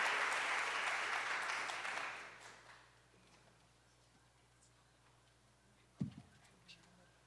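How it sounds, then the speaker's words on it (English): An audience claps loudly for panelists walking onto the stage at a women in politics event, the applause fading after about two seconds and giving way to quiet room noise and a few thumps. "please give a round of applause as we welcome Allison and our wonderful, prestigious panelists up to the stage"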